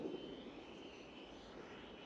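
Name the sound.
FMS Futura 64mm EDF model jet coming in to land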